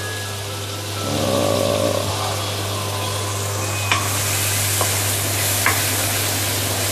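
Sambal fries in oil with a dense, continuous sizzle close by, swelling after the first second, while a wooden spatula scrapes and taps the pan a few times.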